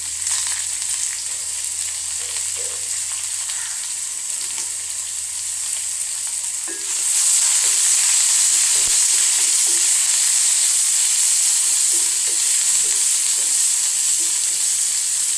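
A green chili frying in a hot pan, giving a steady close sizzle that grows louder partway through and carries on with faint stirring clinks and no talking.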